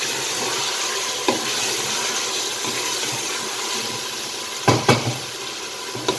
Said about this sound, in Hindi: इसको इस तरह से ऑयल में थोड़ा सा बस इसको फ्राई करना है